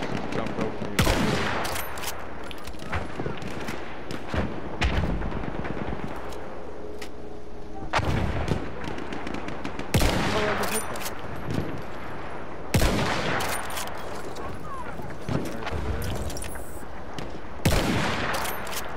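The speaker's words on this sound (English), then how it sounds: "Clearly they see me because I'm getting shot at repeatedly." Repeated gunfire in a video game, aimed at the player: loud bursts of shots and sharp cracks recur every few seconds over a dense, noisy battlefield backdrop.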